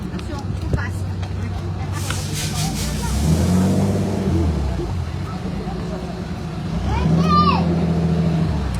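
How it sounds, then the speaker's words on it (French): A classic Citroën DS rolls downhill past a heritage-day vehicle gathering in Saint-Pierre, Réunion, its engine rumbling and swelling twice as it nears, with crowd chatter and voices in the background. "une DS qui va descendre"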